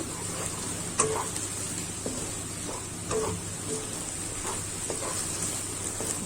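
Marinated turmeric beef in the Kelantan style stir-fried in a pan until the liquid dries, giving a steady close sizzle with a few brief scraping clicks of stirring, no voices.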